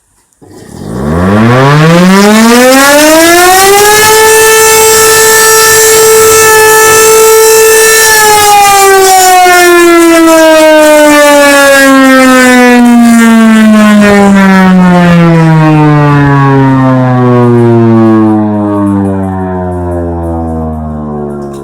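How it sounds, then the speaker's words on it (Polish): A loud fire station siren, sounding in a test, winds up to a steady wail, holds for several seconds, then slowly winds down in pitch while still sounding, with no voices. "To była niekontrolowana próba syreny."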